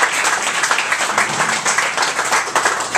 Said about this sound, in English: Let's give a good round of applause for the comedians.